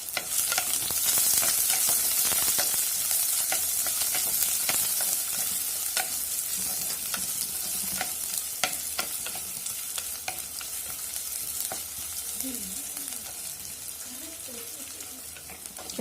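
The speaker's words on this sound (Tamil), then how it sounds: "அடுத்தது வெங்காயம் போட்டு நல்லா கொஞ்சம் லைட்டாக வதக்கி விடலாம்." Sliced onions sauté with curry leaves in a pan for a Tamil fenugreek-leaf kulambu, with a steady close sizzle and repeated scraping strokes of a stirring spoon throughout.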